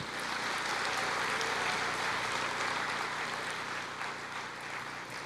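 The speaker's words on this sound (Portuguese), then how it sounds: "pode aplaudir o Senhor." Steady, diffuse applause from a church congregation during a service, heard as a continuous wash of clapping, moderately distant and even throughout.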